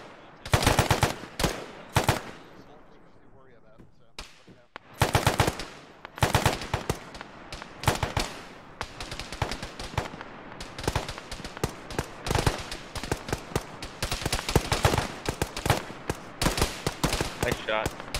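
Gunfire in the military shooter Arma: dense, loud bursts and rapid volleys of shots over about eighteen seconds, with a brief lull near the start. Occasional voices are heard beneath the firing.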